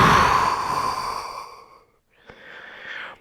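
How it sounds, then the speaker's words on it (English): A person exhales audibly during a cat-cow yoga stretch: one long, breathy out-breath that fades over nearly two seconds, followed by a quieter, airier breath. "breathing out."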